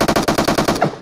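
Rapid automatic gunfire in the BGMI mobile battle royale game, a close, loud burst of about eight evenly spaced shots before it cuts off.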